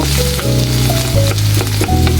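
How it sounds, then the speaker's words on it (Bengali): Loud, continuous sizzling of potatoes frying in hot oil, with occasional crackles and stirring noises, no voices. "আমি আলুগুলো ভালো করে ভেজে নিব"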